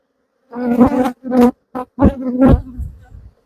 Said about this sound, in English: Oh, there's a random swarm response there.